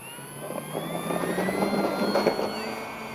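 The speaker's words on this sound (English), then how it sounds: "the plane just gently lifted off on its own without any elevator input" An FMS 1800mm Ranger RC plane lifts off, its electric motor whining steadily at moderate distance over a broad, breezy outdoor hiss, with the pitch shifting slightly as it climbs.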